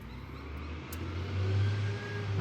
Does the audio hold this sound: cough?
no